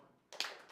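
A brief burst of audience clapping during a counting game at a summit event, a few quick claps rising out of near silence, fairly faint and distant.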